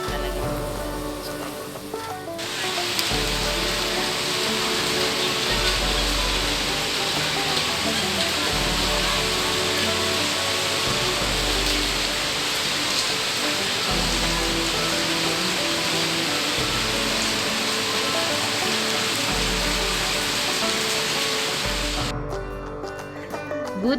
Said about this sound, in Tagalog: Medyo malakas ang patak ng ulan.